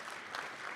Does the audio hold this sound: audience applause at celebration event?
yes